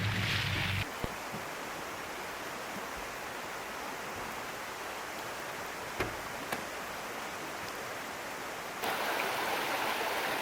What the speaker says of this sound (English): that night we parked next to this beautiful river.